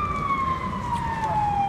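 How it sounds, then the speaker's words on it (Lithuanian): A fire engine siren wails as it approaches a burning car, one steady, slowly falling tone held clearly throughout over low background rumble. "Atvažiuoja, tikėkimės, kad gaisrinė"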